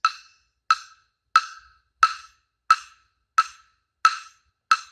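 Eight sharp, hollow wooden knocks of a rhythm stick striking a wooden cylinder at a slow, steady tempo, each ringing briefly before the next, with silence between strikes.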